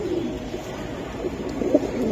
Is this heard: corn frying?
no